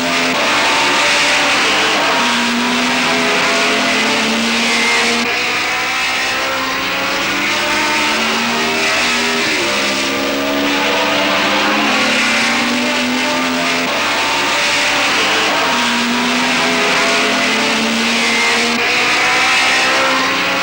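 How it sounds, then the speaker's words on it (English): A 1964 Grand Prix racing car roars steadily and loudly, its engine note climbing and then dropping sharply at repeated gear changes, several upshifts in a row with no voices over it. "Here's Jim Clark and the gear changing he spoke about."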